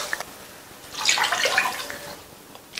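Water is poured into a pan while semolina cooks, giving a faint splashing, gurgling pour that swells for about a second and then trails off, with no talking.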